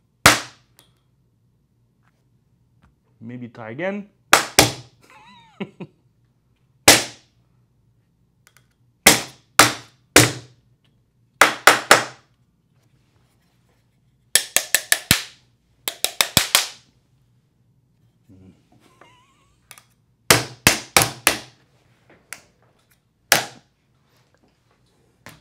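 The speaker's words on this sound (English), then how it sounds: "Let's try to make a fake glass breaking sound." A fake glass-breaking sound is made to test an Ajax GlassProtect glass break detector: sharp, loud cracking impacts come in quick bursts of two to four across a quiet room, with a brief spoken remark between them.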